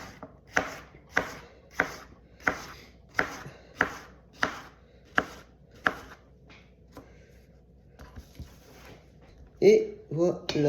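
A knife chops zucchini on a cutting board for an autumn zucchini recipe, about a dozen crisp, evenly spaced cuts close up, then a pause and a voice speaking at the end.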